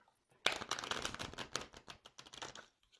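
Tarot cards are shuffled for a reading, a close, quiet run of rapid riffling flutters and soft slaps lasting a few seconds, alone without talk.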